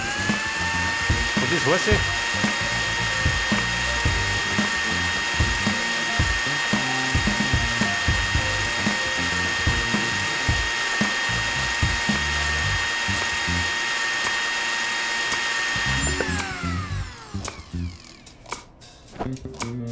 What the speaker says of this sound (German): Der tut die Suppe pürieren.